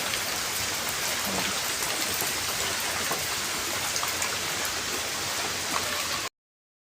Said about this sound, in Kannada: ನೋಡಿ ಎಷ್ಟು ಮಳೆ ಬರ್ತಾ ಇದೆ